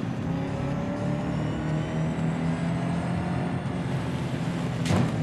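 A Koenigsegg Regera driving in the racing game Real Racing 3, its engine a steady, loud droning hum with faint rising whine, ending in a short sharp burst of noise near the close, no voices.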